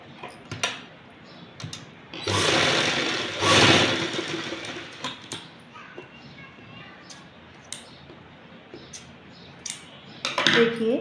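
A sewing machine stitches a small festive dress for a Laddu Gopal idol in a brief whirring burst of a couple of seconds, surrounded by scattered household clatter and knocks.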